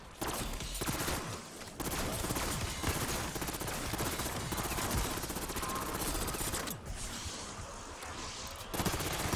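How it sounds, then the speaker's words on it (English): A rapid-firing gun in Black Ops 6 Zombies unleashes long, dense bursts of gunfire, loud and near, with only brief pauses between strings of shots. "We're gonna miss so many shots with this weapon because how fast we actually shoot."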